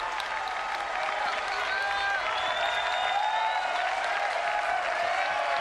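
Baseball stadium crowd at a college game between Texas and Wichita State, a loud, continuous roar of clapping and cheering that stays level throughout, with voices mixed into the wash.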